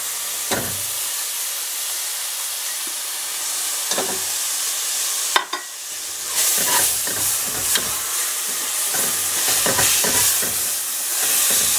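Tomatoes frying in oil for a red lentil vegetarian biryani, a steady close sizzle and hiss with scraping stirs at intervals and a brief clank of a utensil against the pan midway.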